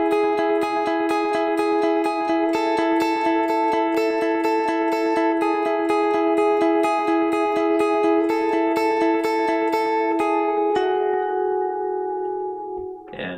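An electric lead guitar plays a repeating riff from a song with a walk-down in the middle, bright sustained notes ringing with echo over steady picking, alone and loud, fading at the end.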